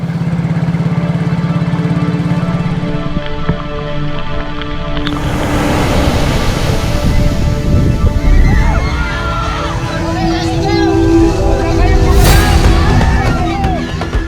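An engine drones steadily as a boat carrying more than 30 students crosses the sea off Hagonoy, Bulacan, mixed with rushing water, and its pitch lifts partway through.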